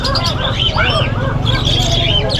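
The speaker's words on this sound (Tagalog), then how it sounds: "Napakadami niyang ibon no." Many birds chirp and tweet together at an outdoor pet market, with quick overlapping calls and whistles over a busy background of voices and crowd murmur.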